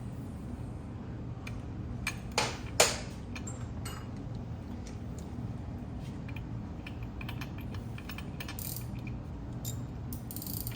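Metallic ratchet clicks and tool clatter from tightening transmission bolts on a motorcycle during a bike build, a few sharp clicks near the start over a steady low hum, no talk.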